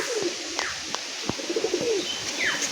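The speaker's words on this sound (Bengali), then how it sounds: "গাইস দেখুন, আমাদের 3টে পায়রা উঠছে" Pigeons, including Bholmara breeds, cooing softly with a few short chirps and wing flutters, at moderate distance against a quiet outdoor background.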